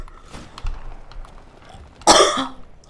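A single sharp, loud cough bursts out near the end, following a stretch of quiet room noise, with a brief throat sound trailing after it. Recorded during a Titanfall gaming session.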